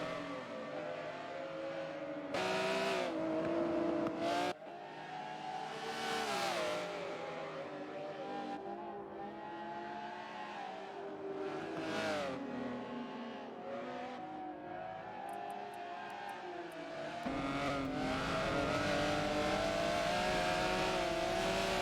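Race cars in a Forza spec racing series event, engines revving and shifting as several cars pass by, with rising and falling whines, a few sharp bursts of louder engine noise and steady track roar throughout.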